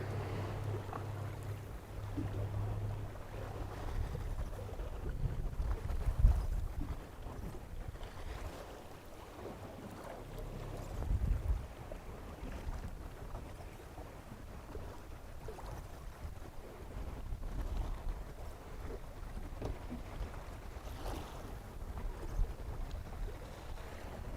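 Wind blowing steadily across a lake around a fishing boat, buffeting the microphone with low rumbling gusts and faint water lapping, with no talking.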